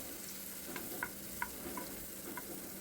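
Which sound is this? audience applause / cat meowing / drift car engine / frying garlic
frying garlic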